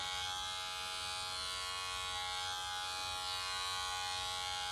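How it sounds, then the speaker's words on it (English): Electric hair clipper run over an Andis clipper comb for self-barbering: a steady, close, continuous motor buzz with no breaks, heard alone. "You can take your clipper and go right over it."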